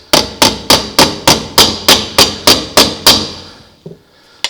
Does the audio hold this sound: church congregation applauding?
no